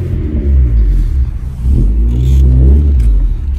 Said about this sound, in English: here's an in-car sound, revving.